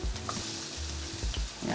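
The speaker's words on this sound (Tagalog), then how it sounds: "Kapag ganyan na yung itsura ng sibuyas, lalagay ko na tong bawang." Onion and garlic sauté in a pan for cheesy pork menudo, with a steady close sizzle and low knocking scrapes of a spatula stirring at an uneven pace.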